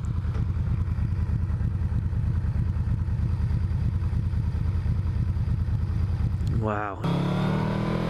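A Yamaha V Max motorcycle engine drones loud and steady while riding, then revs sharply upward near the end before a clunky gear shift changes the tone; a brief spoken exclamation comes just before the shift.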